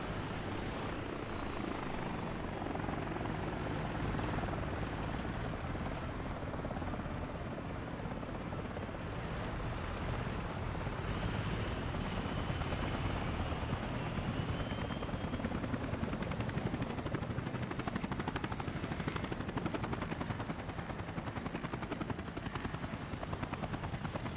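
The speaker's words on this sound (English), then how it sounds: "So we may have a look how the helicopter works now." A helicopter flies in the city-building game Workers & Resources: Soviet Republic, giving a continuous, fairly quiet rotor and engine drone that holds steady throughout with no one talking.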